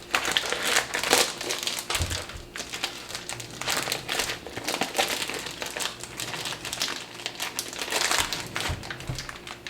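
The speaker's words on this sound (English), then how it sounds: "Open up the sausage." Plastic sausage packaging is torn and crinkled open for Cajun jambalaya, with steady crumpling and rustling close by and a few louder crackles throughout.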